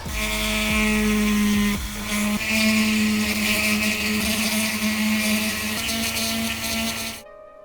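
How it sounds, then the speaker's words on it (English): A Dremel rotary tool with a small pointy diamond bit cuts a plastic Datsun 620 badge, a loud, steady high whine with brief dips as the bit bites, then it stops abruptly. "I'll do that by using the Dremel, a small pointy diamond bit."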